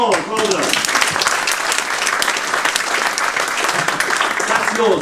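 A live stand-up comedy audience claps loudly and continuously, a thick wash of applause with voices faintly audible underneath at the start and end.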